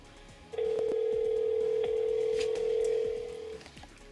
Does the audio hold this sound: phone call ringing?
yes